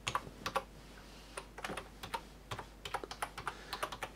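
Random typing on a QWERTY keyboard plugged into an Android device through a USB to MicroUSB adapter: quick irregular bursts of key clicks, close and fairly quiet, with no talking.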